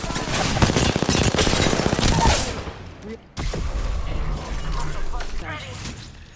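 Bursts of rapid automatic gunfire crackle through a video game match, a dense volley followed by a brief gap and further scattered shots, with a voice talking over the action.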